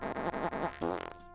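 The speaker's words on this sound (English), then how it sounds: "has to rapid fire the fart sound" A cartoonish fart sound effect from a stream emote fires in rapid succession, several short buzzy blasts in a quick rhythm ending in a higher squeak, loud and alone.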